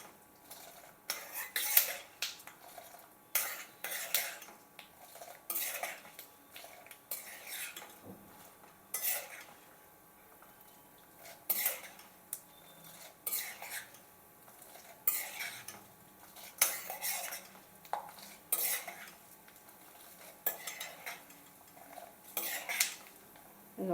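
Ingredients for mango pulihora being dry-roasted and stirred in a pan, with repeated scraping and clinking of a spoon against metal in an irregular rhythm over a faint background, no voices.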